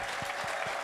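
A church congregation claps during an anniversary sermon, with three distinct rhythmic claps standing out over a steady background wash of crowd noise.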